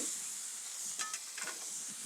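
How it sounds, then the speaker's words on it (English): Water steams under a dome on a hot griddle to melt cheese, giving a steady close hiss and sizzle with a few brief bursts of crackle and no talking. "Dome and some water. This steam is gonna help melt that cheese better than any salamander putting it under the broiler."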